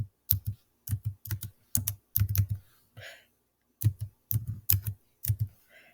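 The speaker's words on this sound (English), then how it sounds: "I'm going to go ahead and type the website up here." Clicky keystrokes on a computer keyboard as a website address is typed, coming in short bursts of several quick taps with brief pauses between, close and fairly quiet, no voices.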